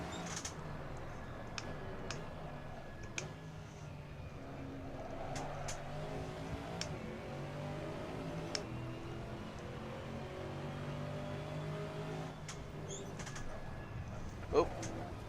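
LMP3 prototype race car engine in the Assetto Corsa racing game, faintly revving up and down through gear changes, a quiet rising and falling engine drone with a few soft clicks.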